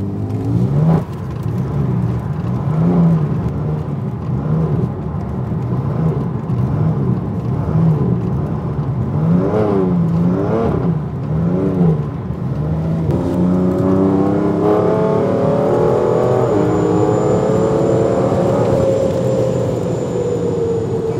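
A BMW M3 drifts with a steady, loud engine roar that stays close the whole time, swelling and falling in pitch as the car holds its slide and then climbing in a long rising rev near the end.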